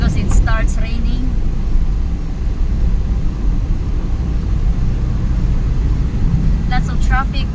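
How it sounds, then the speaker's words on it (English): Steady morning road traffic heard from a moving vehicle, a continuous loud low rumble of engines and tyres with passing cars, while people talk briefly at the start and end. "Lots of traffic this morning."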